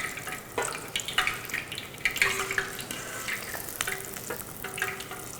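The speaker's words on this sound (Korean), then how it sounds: "이렇게 해서 가지를 튀겼고요" Eggplant deep-frying in hot oil in a pot, a steady crackling sizzle with irregular bubbling pops and occasional stirring, close and moderately loud with no talk.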